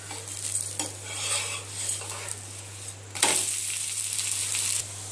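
Bottle gourd dosa being flipped in an oiled pan: a soft sizzle and frying hiss with light scraping of a spatula against the metal, a brief clatter partway through, all close and steady over a low hum.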